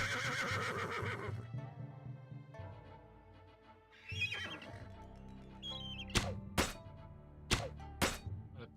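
A horse in the video game Battle Realms gives a loud, close whinny, followed by sharp clip-clop hoof knocks and a few thwacks over soft game ambience.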